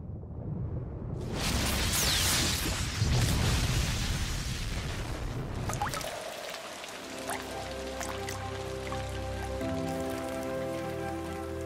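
Steady rain falling during a thunderstorm, a dense hiss of drops for several seconds, then fading into quieter, sparser patter under a low tonal background.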